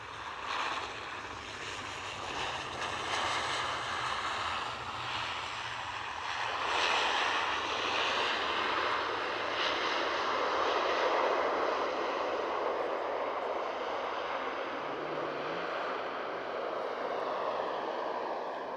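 A KLM airliner approaches during evening plane spotting. A steady, broad jet rumble swells and holds for most of the stretch, unbroken by talk.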